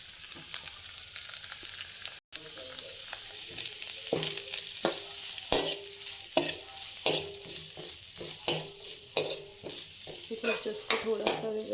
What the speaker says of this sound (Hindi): ये चिकन भी डाल दूँगी, जो मैं ये चिकन निकाल कर रखी हूँ।